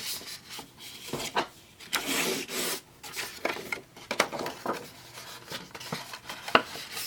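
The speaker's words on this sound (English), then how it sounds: "Now I'm going to burnish my score lines." A tool burnishes score lines on cardstock paper for an Easter berry basket, making a series of short, close, dry rubbing strokes with small gaps between them and no talk.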